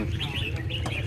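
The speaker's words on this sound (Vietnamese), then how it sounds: "Hôm nay khá nhiều chim non đây nhỉ, khá nhiều ván." Young birds at a Vietnamese bird market chirp in quick, repeated high calls over a busy crowd murmur, fairly close and distinct.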